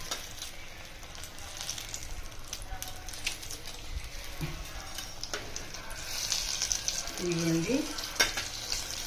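Paneer bajji fritters frying in a pan of hot oil, a steady soft sizzle with occasional stirring clatter and a brief spoken word.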